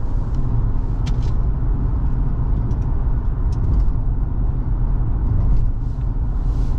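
A 2014 Ford Explorer SUV driving on the road, heard from inside the cabin as a steady low rumble of road and engine noise with faint light ticks on top. No one talks.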